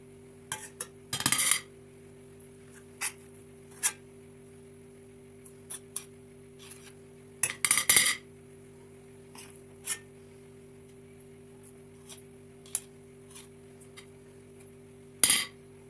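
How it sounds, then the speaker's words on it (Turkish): Two spoons shape warm flour halva onto a serving plate, giving sparse, sharp clinks and scrapes against the dish spread over about sixteen seconds, some in quick clusters, above a faint steady hum. "Şimdi iki tane kaşık yardımı ile soğumadan şekillendirip servis tabağıma alıyorum"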